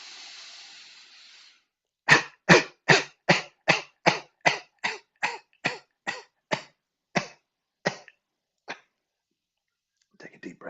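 A soft breathy inhale is followed by a rapid series of about sixteen sharp forced coughs, evenly spaced and gradually weakening, during a breathing exercise in a healing class.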